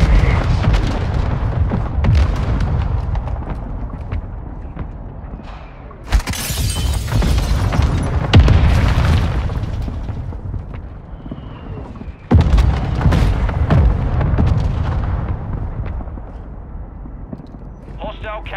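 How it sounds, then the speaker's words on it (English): Mortar strikes hit in a first-person shooter video game, heavy booming blasts with crackling debris that surge at intervals and decay, with players talking over the explosions. "Another mortar strike."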